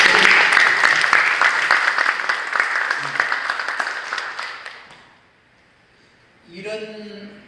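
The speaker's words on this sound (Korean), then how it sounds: "그분들 박수 한번 쳐드립시다" Applause from a church congregation, a dense wash of clapping that fills the first five seconds before fading away, followed by a brief voice speaking over near-silence.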